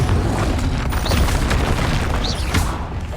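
A Confringo fire spell goes off in the video game Hogwarts Legacy, a loud, dense booming blast that rumbles and crackles continuously for a few seconds, with short whooshing flares riding on top.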